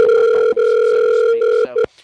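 Steady telephone dial tone on a live motorsports show's call-in phone line, loud and continuous for nearly two seconds with one brief dropout, then stuttering and cutting off into silence.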